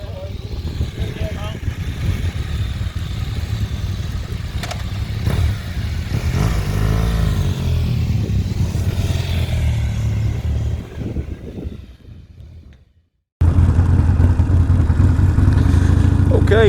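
Adventure motorcycles pass on Kirkstone Pass in the Lake District, a loud, sustained engine roar with rising revs that fades after about eleven seconds. After a brief gap another loud engine rumble follows, with voices mixed in among the riding noise.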